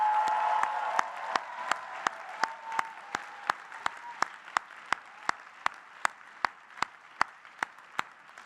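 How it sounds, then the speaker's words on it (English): Ceremony audience applause at a university class day, a broad wash of clapping with a few sharp, evenly spaced louder claps standing out as it gradually thins toward the end. "So let's give them all a round of applause"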